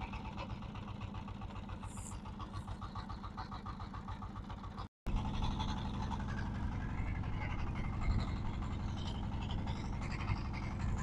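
A boat engine drones steadily during a ride on the water, a continuous mid-pitched throb with a brief dropout partway through and faint voices.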